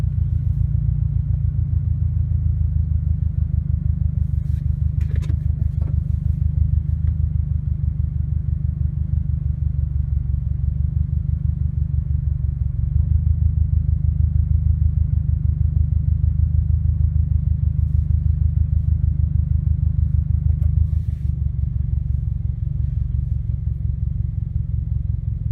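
A 2017 Subaru WRX STI fitted with an Invidia R400 cat-back exhaust idles in neutral, a loud, steady, deep burbling rumble that holds constant without revving.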